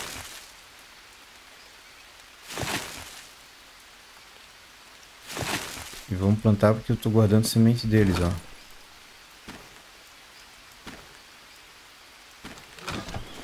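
Rain falls in the survival video game Green Hell, a soft continuous patter punctuated by several brief swells, with someone talking over it midway.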